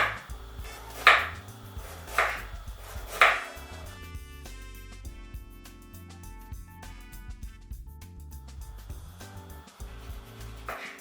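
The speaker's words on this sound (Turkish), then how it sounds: "Öncelikle zencefilimi minik minik doğruyorum." Three sharp knife chops on a cutting board as fresh ginger is finely diced near the start, then a steady background of music with no further distinct cuts.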